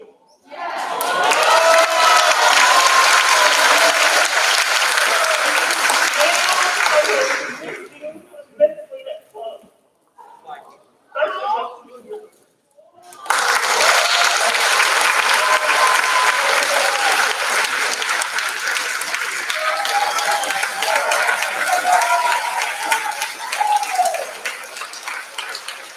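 Loud audience applause at a high school senior awards ceremony, rolling for several seconds, breaking off briefly, then resuming with steady clapping through to the end.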